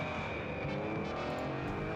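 A race car from a Japanese Spider-Man television show roars steadily with a sustained engine drone and high whine, continuous and fairly faint, with no talk.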